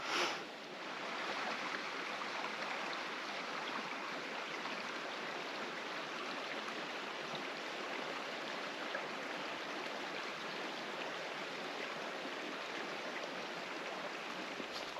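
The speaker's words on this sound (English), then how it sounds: "the drains are all gurgling and bubbling along as you're walking along here" Forest drains gurgle with steady running water along a woodland path, a continuous, even rushing wash heard close by, with no voices over it.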